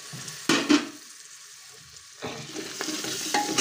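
Tomatoes drop into a hot frying pan with a sharp burst of sizzling and utensil clatter, a lull, then renewed frying and stirring scrapes near the pan.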